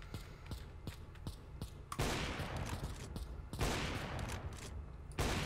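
Rapid gunfire bursts in the video game CS:GO, with loud sustained automatic fire and sharp individual shots following one another over several seconds.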